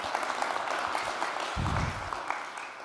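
Conference audience applauding at the opening of an e-skills campaign, steady mid-distance clapping with a brief low thump partway through.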